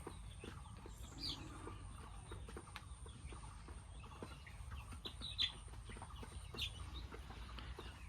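Forty-day-old local farm chickens clucking in a coop, scattered soft clucks and sharper chirps from several birds over low background noise, with one louder call standing out.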